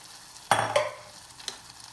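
A quick stir of tomato and aromatics frying in a pan for mozzarella in carrozza sauce, with a sharp scrape at the start and a second one shortly after, then a soft sizzle and a faint clink near the end.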